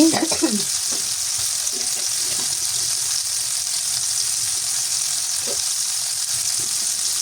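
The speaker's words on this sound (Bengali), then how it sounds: "যেহেতু ছোট ইলিশ মাছ এগুলির মধ্যে কাটা থাকবে তার জন্য আমি খুব ভালোভাবে ভেজে নিচ্ছি একদম ফ্রাই করে নিচ্ছি" Small hilsa fish deep-frying in a pan give a steady, loud, close sizzle throughout, with a few clattering knocks at the start.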